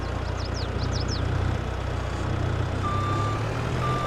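A tractor engine idles with a low steady rumble, while faint chirps sound early and a thin, high reversing beep cuts in toward the end.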